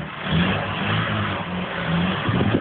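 Car engine revving hard at full throttle, a loud, close, sustained roar with a steady low drone and slight surges.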